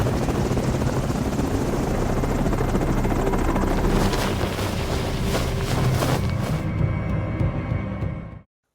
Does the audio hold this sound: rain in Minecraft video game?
no